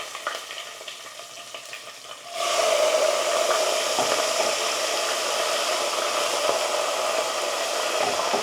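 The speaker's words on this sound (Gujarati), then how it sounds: "તો તેલમાં કૂક કરી નાખીએ. બધાને મિક્સ કરી દઈએ." Curry leaves hit hot oil in a home kitchen and burst into a loud, steady sizzle after a quieter start, the crackling frying noise carrying on evenly with no voices.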